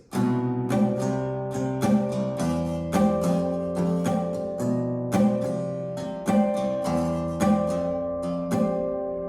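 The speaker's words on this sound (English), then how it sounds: "if I were to play that without the palm mute, it would sound like this" A clean-sustained electric guitar riff played without palm muting rings out with open, ringing notes and regular picked attacks, moderately loud with no voices.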